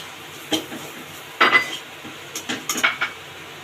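Vegetables tipped into a cooking pan of oil for stuffed pointed gourd dorma, with several scattered clinks and scrapes of utensils against the pan over a low background hiss.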